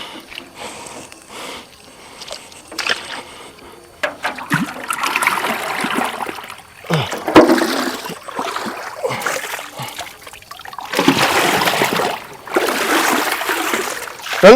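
Water is scooped and splashed from a farm pit in repeated bursts of sloshing and pouring. The sound is close and uneven, with quieter gaps between scoops.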